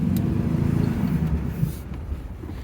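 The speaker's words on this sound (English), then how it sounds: "Let's go for a little ride here and see if it stalls." A car with a suspected crank fault on a test drive, its engine and road noise a steady, moderately loud drone throughout with no talking.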